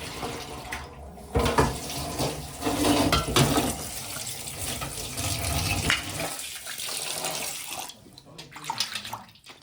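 Tap water runs steadily while dried fish are washed in a kitchen, splashing and gurgling with irregular bursts as the fish are handled under the stream, close and fairly loud throughout.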